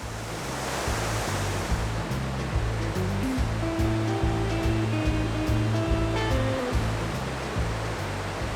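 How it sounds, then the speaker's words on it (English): The powerful Twin Falls waterfalls roar in a steady, dense rush of falling water, with a melodic music track playing over it. "We arrived at Twin Falls, where we hiked a short incline to see the natural beauty of these waterfalls."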